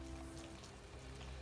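Rain falling in a steady, even patter, moderately loud and continuous, with a faint low hum underneath and no voices.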